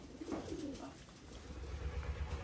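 A pigeon coos softly, with low, throaty coos near the start and fainter calls after, against a quiet background murmur.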